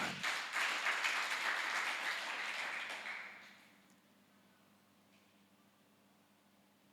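A congregation applauds during a church worship service, with dense, steady clapping filling the room for about three seconds before it fades out quickly into a quiet hall with low background hum.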